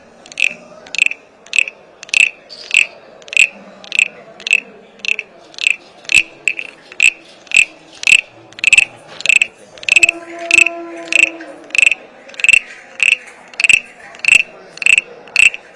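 A wooden frog caller instrument, played with wire and wax, rasps out a steady run of about twenty sharp croaking strokes in even rhythm, mimicking a chorus of frogs, close and loud, with no talking.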